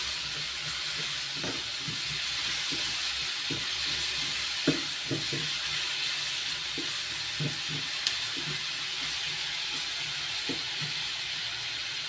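Squid adobo with black pepper and tomatoes sizzles steadily in a pan as it is stirred, a constant hiss broken by occasional soft scrapes and clicks, with no talking.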